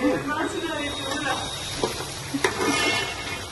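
Food is stirred in an oily pan in a home kitchen, a continuous sizzling hiss with soft scraping strokes and a couple of brief utensil taps.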